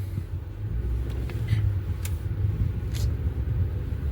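A 2026 Cadillac Escalade V with a 6.2 engine rumbles in a low, steady growl, moderately close and fairly quiet, with light traffic noise around it.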